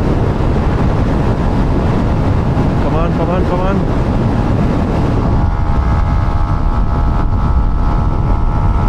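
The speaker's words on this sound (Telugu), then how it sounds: "గాలి చాలా హెవీగా ఉంది." Heavy wind roars continuously past a Yamaha MT15 motorcycle ridden at around 120 km/h, a loud, steady broadband rush with someone shouting briefly over it.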